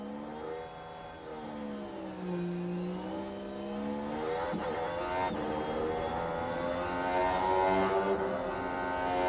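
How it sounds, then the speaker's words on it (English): A Mercedes AMG Formula 1 car engine in F1 Manager 23 rises in a sustained, loud, buzzing howl through the Monaco tunnel, its pitch climbing steadily as it accelerates with no talk over it. "I do like that you could hear the engine echoing when you're in the tunnel."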